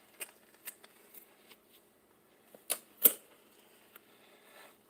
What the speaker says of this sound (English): Go to the tip of that, come up just a little, then I'm just going to cut straight down.